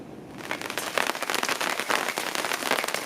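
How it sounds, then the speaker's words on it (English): Dense patter of small hard pellets and rain striking a surface, a steady crackling hiss that swells slightly and stays fairly close. "it's raining again. Actually, we've got small hail coming down."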